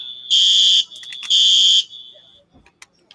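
A fire alarm at a craft fair sounds two loud, sustained electronic beeping bursts with a brief flicker between them, then falls quiet with faint scattered noises.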